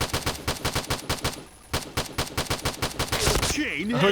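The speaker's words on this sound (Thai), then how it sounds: "ปืนสัญชาติสิงคโปร์นั่นเองนะปืนกลหนัก" Ultimax heavy machine gun firing in the Point Blank video game: rapid, loud automatic bursts in a fast steady rhythm, briefly pausing once, with a voice talking near the end.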